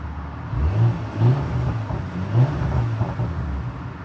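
A 2024 Porsche Macan S revs in sport mode, its exhaust giving a loud, deep, fluctuating engine note with several repeated blips rising and falling over a steady rumble.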